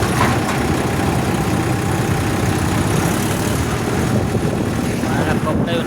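A tractor engine runs steadily and loudly throughout, a dense low rumble with constant drone and no pauses, outdoors in windy weather.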